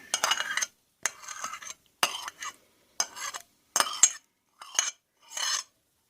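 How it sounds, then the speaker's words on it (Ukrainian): Stirring pumpkin into charlotte cheesecake batter in a bowl, heard as seven short scraping bursts of utensil against the dish, spaced about a second apart, close and alone with no talk. "І отак розмішуємо буквально для якогось там візеруночка."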